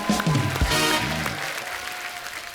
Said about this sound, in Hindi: एक बार जोरदार तालियां हो जाए हमारे तमाम प्लेयर्स के लिए